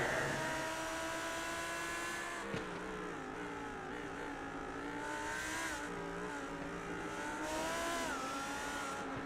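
Onboard a race car at Oulton Park, a steady loud engine drone holds throughout with rising and falling revs through gear changes and corners, heard alone without talk.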